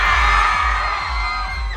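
A large crowd at the MMFF 2024 Parade of Stars in the Philippines yells together in one loud, sustained roar, with bangs and whoops mixed in, filling the whole short moment.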